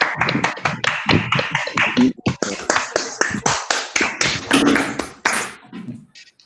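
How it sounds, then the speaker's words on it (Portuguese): Clapping at an online UX research talk, a rapid run of distinct, close claps and taps with uneven rhythm, fairly loud, with no talk over it. "Palmas, povo"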